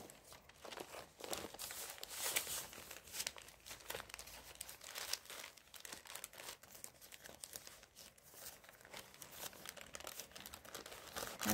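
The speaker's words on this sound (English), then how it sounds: "This is packing paper" Packing paper is rustled and crumpled by hand, a close, continuous crinkling with sharp crackles and soft tearing-like scrunches throughout, and no one talking.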